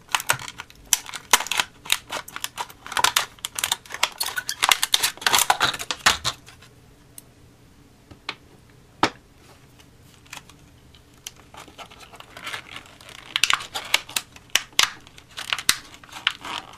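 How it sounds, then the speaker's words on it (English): Scissors snip and crinkle through the glued plastic packaging of a SanDisk 64GB USB 3.0 flash drive, with rapid close cutting and crackling bursts, a quieter pause, then more scattered snips. "The package is glued. It doesn't come apart, so you're going to need a pair of scissors to open it."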